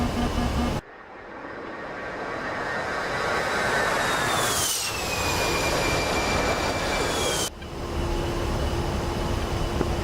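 F-16 Viper jet engine in DCS World roaring steadily through a takeoff run, with a broad sustained rush and rising whine that shifts as the jet climbs, then cuts abruptly to a lower steady tone.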